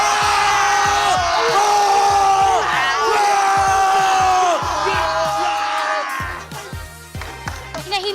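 A crowd at a live MPL Philippines Mobile Legends esports match yells, whoops and cheers loudly and continuously, thinning out near the end.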